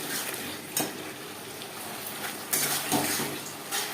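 Spices frying with onion in a pan, with garlic for a pangas fish curry, giving a constant close sizzle broken by a few stirring scrapes and clicks from the utensil.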